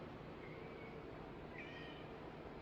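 A cat meows a couple of times in a woodworking shop at night, the short calls faint and distant over a steady broadband hum of background noise.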